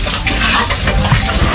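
Water gushes and splashes steadily while large pigs of about 50 kilos are washed on a farm in Tiaong, Quezon, a loud, continuous close-up rush of water.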